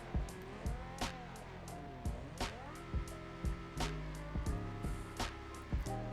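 A V10 engine in a Skyline revs in the BeamNG driving game, with repeated rising and falling tones and sharp bursts, heard at reduced volume.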